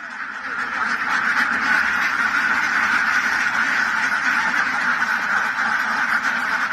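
A large flock of domestic ducks quacks nonstop in a dense, overlapping chorus that is loud and close. The clamor stays steady throughout, with no clear speech.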